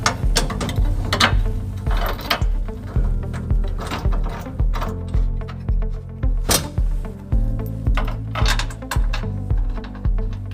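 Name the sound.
putting bolts back in to fit a trailer hitch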